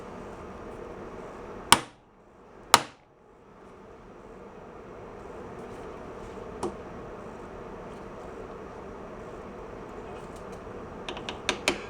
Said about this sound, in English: this is an impact hammer. And what it does, it drives the bit inward and it turns it at the same time.